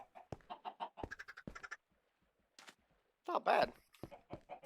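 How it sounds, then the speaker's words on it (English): Short clucks and squawks from chickens on a chicken farm in a block-building game come in quick clustered bursts, close and fairly loud, with a brief voice speaking between them. "this is my little chicken farm that I put in so that I have that food coming in"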